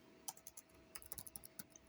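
A computer keyboard clicks as a file name is typed, a quick, irregular run of light, close keystrokes, soft and alone.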